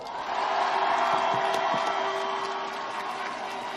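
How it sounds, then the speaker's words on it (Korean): A rally crowd in Siheung, Gyeonggi Province, cheers and applauds for Lee Jae-myung, a dense, steady roar of voices and clapping that holds loud for the whole stretch, with scattered shouts rising above it. "이재명이 할 수 있다고 믿으면 박수 한번 쳐주세요."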